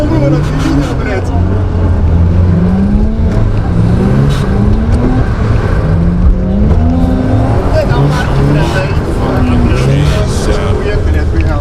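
A car drifts on snowy winter streets, its engine roaring loud and steady with rising and falling revs, tires hissing underneath, and people talking over the noise.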